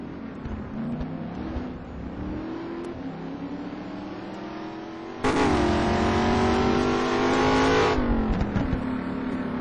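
A Mosler race car's engine drones through a race at the Nürburgring, rising and falling through gear changes, then swells loud and close as the car roars past before fading.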